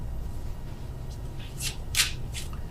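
Tarot cards are shuffled close by in several quick papery riffles and slaps over a low background hum, with no talking.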